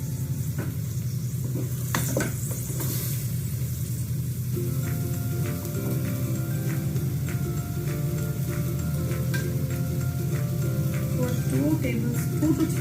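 Mutton soaked in raw papaya sizzles steadily in a hot pan for biryani, with continuous frying crackle, occasional stirring scrapes and a faint voice in the background.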